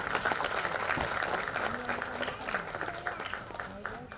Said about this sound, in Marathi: जरा जोरदार टाळ्या श्वेताजींसाठी.